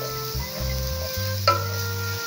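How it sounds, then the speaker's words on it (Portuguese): Ingredients for arroz de putarrica, a Goiás rice dish, being sautéed in a pan, with steady frying and stirring scrapes, a utensil knock near the middle, and a low hum under the whole stretch. "Vou refogar isso aqui"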